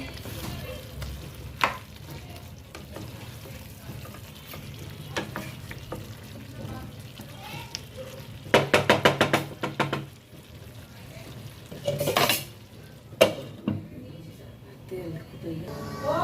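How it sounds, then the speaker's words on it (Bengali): Country chicken curry being stirred and fried in a pan, with a steady low sizzle, scattered spoon scrapes and a burst of louder stirring clatter midway, under a faint background voice. "আমি মাংসটা আরও একবার নেড়ে দেবো"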